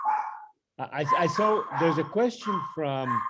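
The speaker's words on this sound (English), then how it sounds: "Sorry about my dogs." Pet dogs bark at home during an online meeting, one short bark at the start followed by someone speaking continuously, with the dog sounds faint and partly overlapped by his voice.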